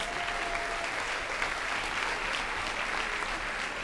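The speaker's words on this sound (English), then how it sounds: "Give yourself a round of applause." Steady applause from an audience at an employee service day event, a dense continuous wash of clapping that holds at an even level throughout without any voices breaking through.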